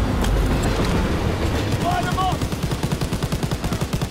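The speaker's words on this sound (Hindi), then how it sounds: "वो मशीन गन भी है यार पीछे" Rapid machine gun fire from the video game Stop The Armored Train, a loud sustained rattle of evenly spaced shots that grows more distinct toward the end, over dense battle noise.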